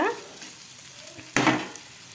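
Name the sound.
stirring chicken keema mixture in a pan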